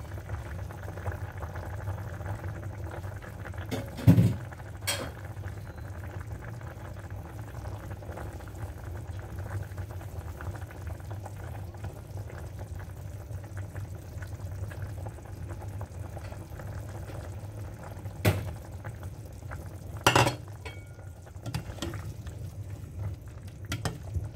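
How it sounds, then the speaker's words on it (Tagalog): A pot of adobo with potatoes simmering at a steady rolling boil, with continuous low bubbling and a few brief clinks partway through, with no voices. "Kumukulo na."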